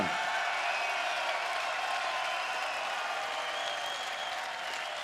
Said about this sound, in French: je vous demande d'applaudir tous les bénévoles